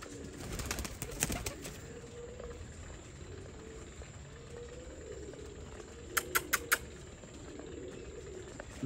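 Pigeons coo softly in a low rolling murmur at a breeder's loft, with a cluster of clicks early on and four quick sharp taps near the end.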